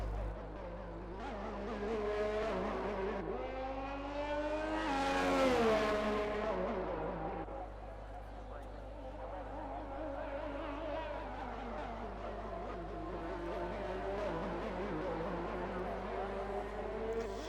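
An Alfa Romeo race car in a sim racing game, on an Australia round, revs and shifts through several gears in the background beneath a commentator's steady talk.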